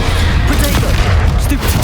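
Dense, loud blasts of a Confringo fire spell in Hogwarts Legacy during a battle, a continuous booming barrage with rapid overlapping impacts.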